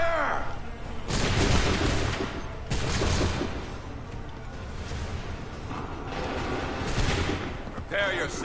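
A musket volley in the Assassin's Creed 3 game crackles out in repeated rolling bursts of gunfire, loud and layered with distant booms, while voices shout commands over the battle.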